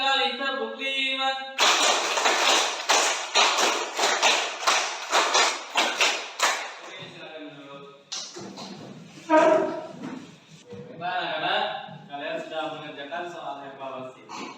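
Students in a classroom clap a counted five-beat pattern three times in quick unison bursts, loud and close, followed by the teacher talking.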